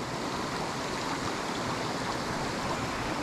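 A small stream babbles steadily in the morning, a continuous close wash of trickling water with no voices.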